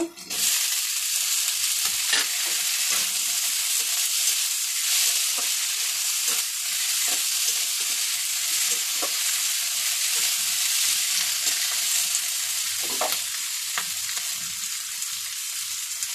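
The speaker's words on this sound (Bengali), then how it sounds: "দেখুন, আলুর সঙ্গে মাছের তেলটা আমি ভাজা ভাজা করে নিয়েছি।" Cut potatoes fry in fish oil with a constant close sizzle, while a spatula scrapes and knocks against the pan at irregular intervals; nobody speaks.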